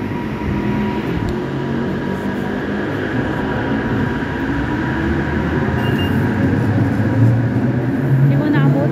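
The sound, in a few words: LRT light rail train passing at station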